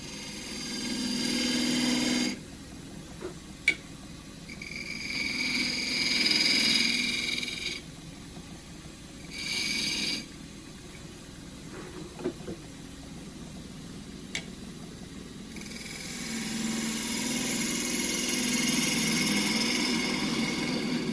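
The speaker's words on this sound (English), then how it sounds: "3/8 spindle gouge to do the foot." A 3/8 spindle gouge cuts the foot of a small bowl of hard, dry camphor laurel spinning on a wood lathe. Close, airy cutting hiss comes in separate bursts, with quieter pauses and a few sharp ticks between passes.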